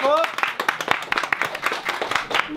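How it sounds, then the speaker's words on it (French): Audience applause rings out at an event, brisk steady clapping from many hands that carries through the whole stretch, with voices mixed in beneath it. "On les applaudit bien fort."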